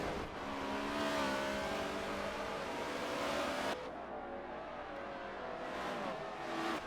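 Video-game NASCAR stock cars race at Road America, engines revving and droning with rising and falling pitch, an abrupt cut midway before more engine noise from cars nearby.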